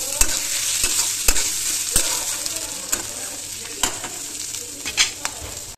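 Green chili and grated ginger stirred in a hot oiled pan: a steady close sizzle with repeated scraping strokes of a spatula, about six distinct clacks against the pan, no voices.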